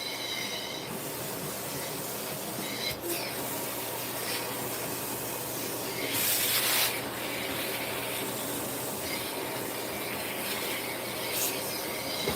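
Tools being wiped down by hand after working wet green wood, a close, continuous rubbing and scraping with occasional louder swipes and no talking.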